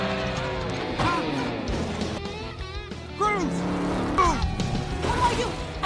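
Animated cars collide and grind in a demolition derby arena, metallic crashes and squealing tires bursting out amid engine noise, with voices talking and a music score over the action.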